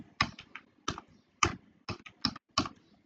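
Keys clack on a computer keyboard while network addresses are typed out, with about seven separate bursts of sharp, close clicks spaced with short pauses and no talking.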